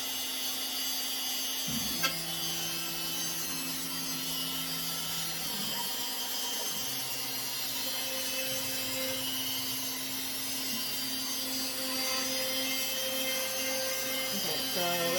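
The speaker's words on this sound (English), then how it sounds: "right now we're cutting the neck out using the bit" A CNC router spindle cuts out a wooden guitar neck with a bit, a steady whining drone with shifting tones throughout, and faint background noise.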